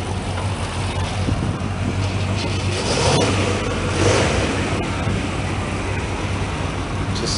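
A classic Chevrolet engine, 360 to 365 horsepower with solid lifters, idles quietly at an outdoor concours car show. Its low steady running is half buried under heavy wind noise on the microphone throughout.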